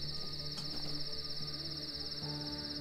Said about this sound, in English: Who loves the in-game crickets, chat?